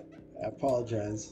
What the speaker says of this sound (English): If y'all heard that, that was my cat.